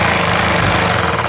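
Sewing machine stitching a salwar seam, a close, steady mechanical whirr with rapid even rattle and no talking.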